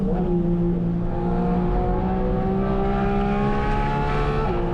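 Porsche 718 Cayman GT4 RS on a racetrack, engine roaring loud and close as it accelerates hard under throttle, with rising harmonic tones and a steady rush of noise throughout, no talk.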